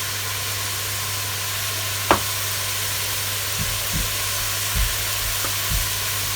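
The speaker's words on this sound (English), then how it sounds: "Give that a nice stir." Pumpkin rice stirred in a sizzling pot: a steady frying hiss with a few soft knocks and scrapes of the spoon against the pot, no voices.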